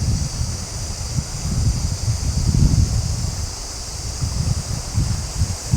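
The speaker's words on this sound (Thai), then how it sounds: "มื้อนี้มันมีเสียงลมเด้ลมจะฮัดแหง" Wind blows outdoors beside a river, a steady rough rumble with gusty buffeting on the microphone that swells and eases throughout.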